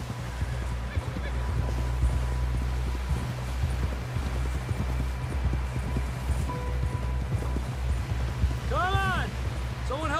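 Horse hooves in Red Dead Redemption 2 clop in a steady, rapid rhythm close by, continuing throughout, while a voice briefly calls out near the end.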